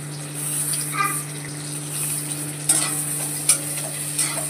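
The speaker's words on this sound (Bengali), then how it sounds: "কিছুক্ষণ ফ্রাই করার পর এখানে অ্যাড করেছি কাঁচা লঙ্কা, কেটে রাখা পেঁয়াজ।" Garlic, bay leaf, green chilli and chopped onion frying in a pan for dal, with a steady sizzle, a constant low hum and a few light clinks of a spoon, close by.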